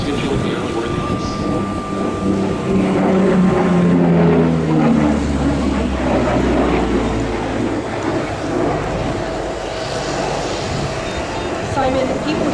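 Vintage airplane known as White Lightning, one of roughly two dozen surviving examples of its type, performing at the EAA Oshkosh airshow; a loud, sustained engine drone swells and fades overhead, with a commentator's voice running over it.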